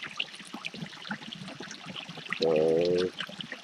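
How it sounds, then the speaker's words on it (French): A small forest stream flows with a gentle, steady trickle, interrupted midway by a brief, loud tonal hum lasting under a second. "Vous entendez le bruit de mon petit ruisseau certainement."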